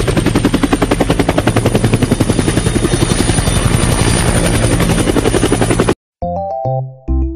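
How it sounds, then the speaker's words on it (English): Helicopter rotor chopping loudly and steadily with a rapid rhythmic beat for about six seconds, then cutting off abruptly into short tonal musical notes. "helicopter."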